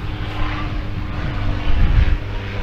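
A propeller plane drones overhead, a steady engine hum that swells slightly louder toward the end, mixed with outdoor wind noise.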